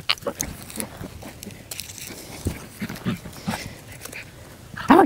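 A playful dog whimpering and scuffling close by, with short irregular yelps, thumps and movement noises, while a person talks intermittently.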